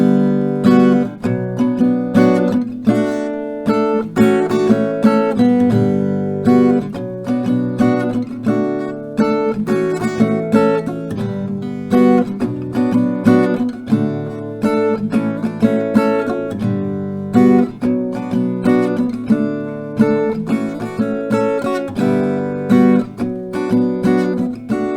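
Acoustic guitar strumming the chords of a song in a lesson setting, steady rhythmic strums ringing loud and close for the whole stretch, no voices over it.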